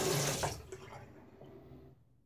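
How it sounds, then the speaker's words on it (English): Tap water runs briefly into a sink to rinse a Karve Christopher Bradley safety razor during a wet shave, a close splashing rush that fades to a quiet trickle and then stops. "And let's rinse this second pass off."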